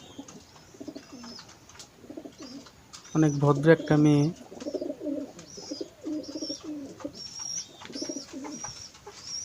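Pigeons in a pigeon house coo repeatedly in soft, rhythmic bursts, with a close chorus that swells midway, as a person speaks briefly among them.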